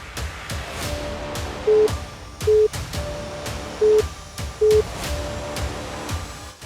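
A phone's call-waiting tone gives four short, evenly pitched beeps spaced about a second apart, sounding over a busy, noisy background.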